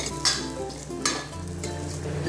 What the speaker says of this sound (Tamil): அந்த ஒரு ½ கப் சேமியா, ஆக்சுவலாக ரோஸ்டட் சேமியா தாங்க, இருந்தாலும் லைட்டாக கொஞ்சம் ரோஸ்ட் பண்ணால் நல்லாயிருக்கும்